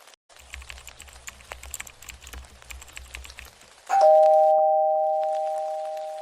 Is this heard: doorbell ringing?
yes